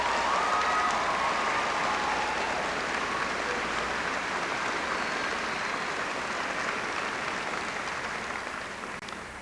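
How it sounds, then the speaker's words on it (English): An audience applauds the mothers present at a Mother's Day commencement gathering at Lansing Community College, a steady dense wash of clapping that holds evenly and fades slightly at the end, with no talking over it. "I would love us to applaud all of the mothers who are here present today"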